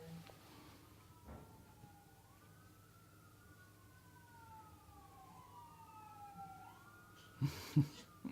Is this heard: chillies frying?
no